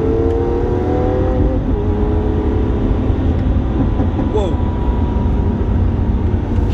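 A Lamborghini Aventador S in Corsa driving mode, its engine a loud continuous roar heard from inside the car, with rising and falling revs through the clip.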